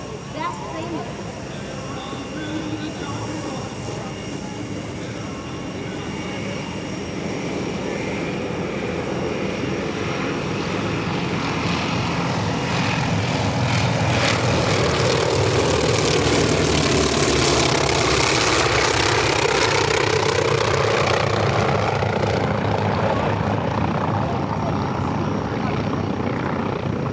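A single-engine aircraft with a 1,425-horsepower nine-cylinder radial engine drones overhead at EAA AirVenture 2025, its throaty propeller roar swelling louder as it passes close by, then easing slightly as it moves away.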